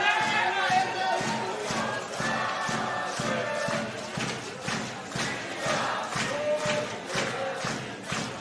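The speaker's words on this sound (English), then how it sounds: "their fans singing, cheering." Fans sing and cheer at a European Championship powerchair hockey bronze-medal match between Denmark and Italy, producing a steady, distant crowd roar with rhythmic chanting and thumping beats. It plays under an announcer's commentary.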